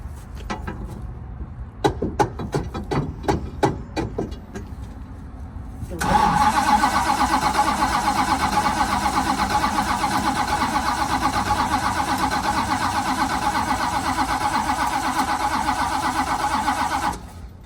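A car engine with a failing starter gives a few loud, separate cranking clunks. The engine then catches and settles into a steady, rough idle that runs to the end.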